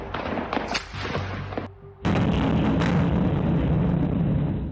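Bombardment in the war in Ukraine: loud explosive blasts and cracks, then a sustained, heavy roaring rumble that fills the rest of the clip.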